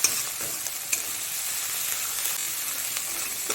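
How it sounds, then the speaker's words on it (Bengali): Ginger and garlic fry in mustard oil, giving a steady, close crackling sizzle with occasional sharper pops over the full stretch and no voices. "একটুখানি সর্ষের তেল দিয়ে দেবো। আদা রসুনটাকে একটু ভালো করে ভেজে নেবো"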